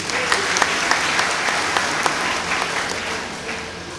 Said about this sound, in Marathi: एकदा त्यांच्यासाठी जोरदार टाळ्या होऊ द्या